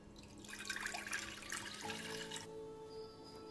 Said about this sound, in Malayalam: പാൻ വെച്ചിട്ട് അതിലേക്ക് 1 കപ്പ് പാലൊഴിച്ചു കൊടുക്കാം.